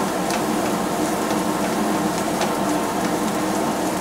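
Shiitake mushrooms and dried shrimp sizzle steadily in hot oil over low heat, a dense continuous crackling hiss with scattered sharper pops, close and fairly loud, with no talking.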